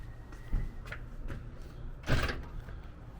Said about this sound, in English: So I'm going to go up and try to open these doors.